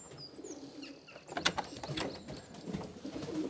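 Racing pigeons coo and call inside a loft, a soft layered murmur of several birds at moderate distance, with a brief louder flutter or peck in the middle and light mechanical rustling underneath.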